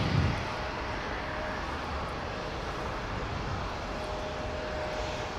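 A Boeing 767 comes in to land at MSP Airport with a steady, broad engine roar held at a fairly even level from a moderate distance, and no one speaks.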